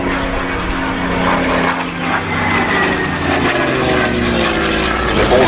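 A Messerschmitt Bf109G propeller fighter roars past at an airshow, a loud sustained engine drone with a wavering pitch that holds strongly across the whole stretch, with no talking.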